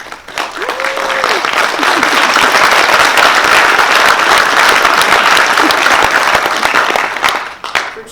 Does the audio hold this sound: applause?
yes